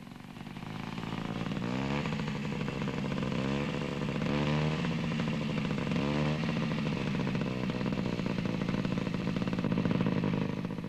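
An Italian scooter engine from the early 1960s, fitted with dual learner controls, runs steadily and loudly throughout with a buzzing, slightly rising and falling revving note and no talk.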